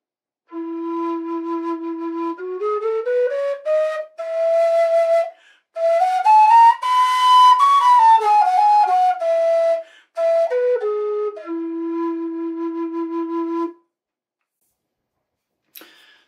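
Carbony Low E whistle made of carbon fiber, with chimneys and back thumb holes, playing a clear, loud tune of sustained notes stepping up and down, with brief pauses between phrases and no talking.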